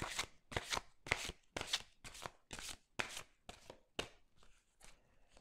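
Angel love oracle cards are riffle-shuffled up close, making about ten quick papery bursts of flutter in a steady rhythm, soft and crisp, with no voices.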